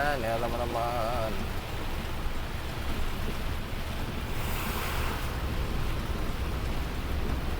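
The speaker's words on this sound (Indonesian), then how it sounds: "Ini hujannya juga gede banget." Heavy rain pours down during a highway journey along the Lintas Timur route in Lampung, a dense, steady roar with wind buffeting the microphone throughout and a faint voice near the start.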